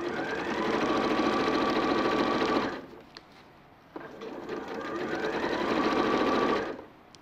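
A quiet sewing machine stitches the side seam and underarm of a garment, running in two long, steady bursts with a short pause between them, close and clear with no talk over it.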